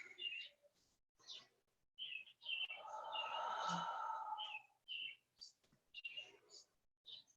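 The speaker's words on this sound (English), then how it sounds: "Just listening to the birds." Birds chirp and trill in short bursts at a soft distance in a park, with one longer warbling song in the middle and quiet breathy sounds between calls.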